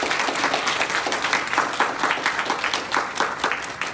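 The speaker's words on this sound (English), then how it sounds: "can we give a round of applause for the panel?" Audience applauding a panel at a career event, a steady wash of clapping from many hands with individual claps standing out, continuous and fairly close, no speech on top.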